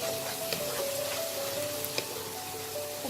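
Tomato puree and masala paste fry in oil in a pan for chicken tikka butter masala, giving a steady soft sizzle with faint spattering ticks and a few brief clinks, close and continuous with no talk.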